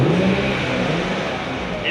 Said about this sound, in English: Let's give it a little rev here.